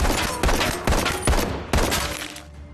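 Rapid gunfire in The Walking Dead: Saints & Sinners virtual reality game, five loud, sharp shots spaced roughly half a second apart, each followed by a short echoing tail that fades out at the end.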